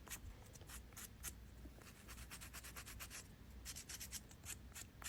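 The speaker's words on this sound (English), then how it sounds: "You always want to buff your nail after you do any shaping, filing" A builder gel nail being buffed smooth after shaping and filing, giving a soft, close, rhythmic rubbing and scratching of quick back-and-forth strokes, faint and steady with no talk.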